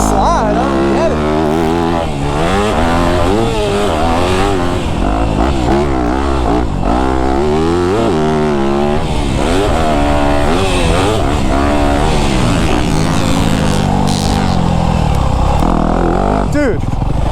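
Dirt bike engine on a backyard motocross track, loud and close throughout, its pitch rising and falling steadily as the rider works the throttle through turns, with a voice talking over it.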